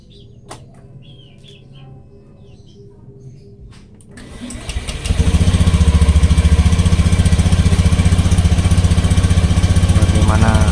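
Motorcycle engine with a battery over three years old cranked by its electric starter, catching after a brief whir and settling into a loud, steady close idle; speech and faint bird sounds come before it starts.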